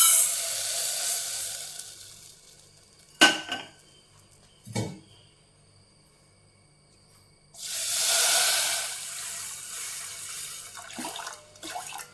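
Roasted pearl millet being rinsed in water in a kitchen vessel, with a wash of water at the start, a couple of sharp knocks against the pot, then a longer swishing pour and rinse near the end.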